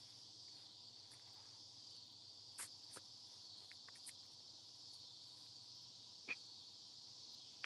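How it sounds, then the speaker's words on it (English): Cicadas buzz in the trees with a steady, high, continuous drone that never breaks, faint and somewhat distant, with a few small clicks and ticks in the background. "Yeah, some people call them, cicadas"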